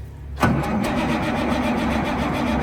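A 1987 cabover truck engine, started after years sitting, cranks briefly then catches and fires up abruptly, settling into a loud, rough idle nearby with no voices over it.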